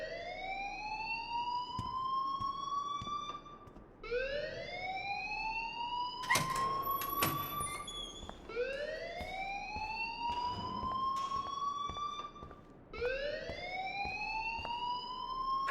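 An electronic alarm rings in the video game Life is Strange, a loud rising siren-like wail that repeats in long sweeps, with a few sharp knocks and clatters in the middle.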